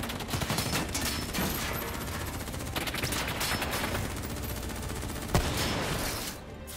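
Rapid bursts of automatic gunfire in the Black Ops 3 video game, dense overlapping shots with a sharp single crack near the end, loud and close without speech.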